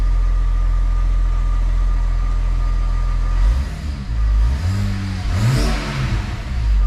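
A BMW N54 hybrid-turbo engine fitted with B58 ignition coils idles steadily and loudly after a cold start, a deep even rumble, then the revs dip and are blipped up and down a couple of times.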